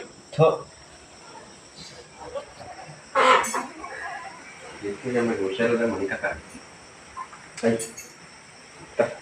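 Native country chickens cluck and squawk in short scattered bursts nearby, with a person talking intermittently between the calls.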